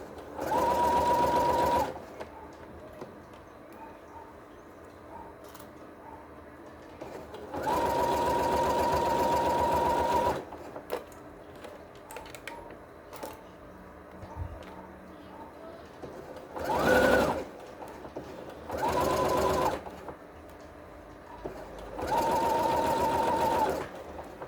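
A sewing machine stitches a cushion cover with a French seam in five bursts of steady, close whirring, separated by quiet pauses with faint handling noises.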